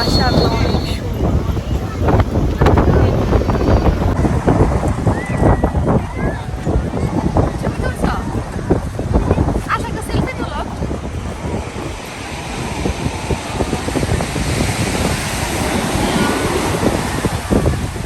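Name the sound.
sea waves at Cox's Bazar beach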